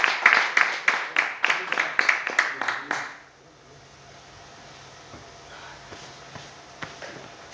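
A church congregation applauding in rapid bursts of clapping for about three seconds, loud and close, then fading into quiet room tone with faint murmurs.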